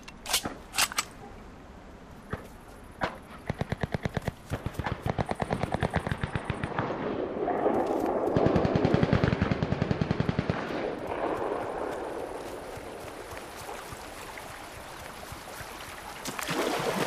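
Gunfire from a gun in the video game Cuisine Royale, rapid bursts of automatic shots with scattered single shots, loud and close against a rushing background.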